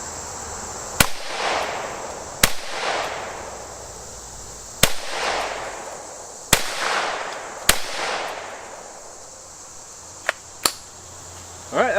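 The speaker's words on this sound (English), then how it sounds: "Alright, that was 5 shots." Several .22 Magnum full metal jacket rounds fired outdoors at a body armor target: sharp, loud cracks spaced one to two seconds apart, each trailing a brief ringing decay, with no talking.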